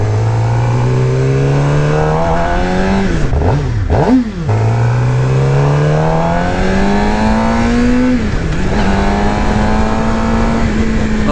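A 2018 Suzuki GSX-R600 sport motorcycle on the road, its engine revving hard and climbing in pitch through the gears, with a brief dip at each shift; loud, close and continuous.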